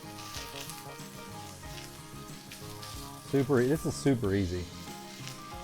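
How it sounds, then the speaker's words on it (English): A pork sausage patty sizzles in a pan with a steady frying hiss running throughout, while a person talks briefly over it near the end. "Now what I'm doing here is I'm just cooking, it's just a sausage patty"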